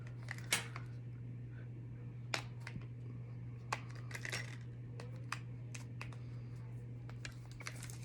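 Scissors snip repeatedly through tight plastic cosmetics packaging for a lip gloss, making sharp scattered clicks and cuts over a steady low hum, fairly quiet and close.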